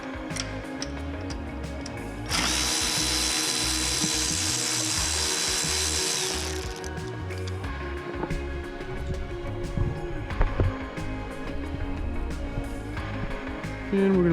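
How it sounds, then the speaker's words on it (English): Power tool loosening a 10 mm bolt on a BMW S85 V10 engine during rod bearing work, a steady high whir lasting several seconds up close, followed by clinks and clatter of parts. "we got 10 millimeter bolt right up in there. We're going to pop off."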